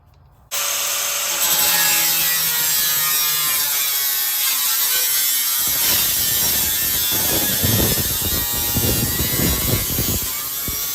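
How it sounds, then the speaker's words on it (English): A hacksaw cuts through the front fender of a Jeep Grand Cherokee. Rapid, rough back-and-forth rasping strokes come close and loud and continue steadily without speech. "we're gonna hacksaw the front"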